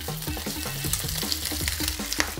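Short rib sears in an oiled skillet over medium heat for tequila-braised tacos, giving a loud, close, crackling sizzle with clattering stirs and knocks in the pan, no talking.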